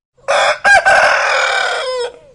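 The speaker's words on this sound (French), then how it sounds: "Le soleil se lève, les coqs chantent." A rooster crows at sunrise in Australia: one loud, close cock-a-doodle-doo with a rising start and a long, drawn-out wavering tail, heard alone.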